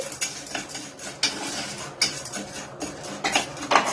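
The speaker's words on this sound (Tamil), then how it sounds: "போட்டு ஒரு கிண்டிட்டு நல்லா கிண்டிட்டு" Popcorn kernels stirred in oil in a pressure cooker over high heat, with a utensil scraping and clinking against the metal pot in quick irregular strokes and sharp taps, close and with no talking.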